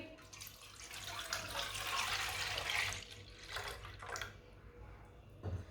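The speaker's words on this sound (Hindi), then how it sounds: "1 किलो दूध डाल लेंगे।" Fresh milk poured into a pot makes a soft, continuous splashing stream that swells and then tapers off, fairly faint and close, followed by a light clunk at the end.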